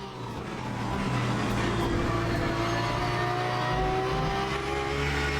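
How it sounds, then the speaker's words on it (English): A Porsche race car in the Le Mans Ultimate racing game holds a loud, steady engine drone as another prototype car passes alongside, with rising and falling engine tones throughout. "Another car on the left there"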